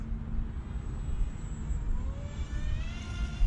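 A J-Wings Genesis RC model airplane flies at full throttle, its engine a continuous whine that climbs in pitch near the end over a low, rough rumble of wind and background noise.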